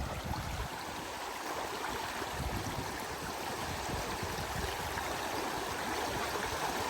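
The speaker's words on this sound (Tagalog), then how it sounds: "Ayun, namumuti-umuti, sobrang lakas ng agos." A strong river current rushes steadily nearby on a mountain route with many river crossings, a dense, continuous roar of churning water.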